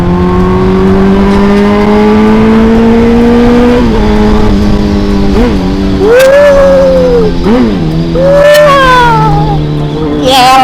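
A 2021 Kawasaki ZX10RR superbike engine holds a loud, sustained drone near the listener, then revs up in several sharp blips and rising pulls.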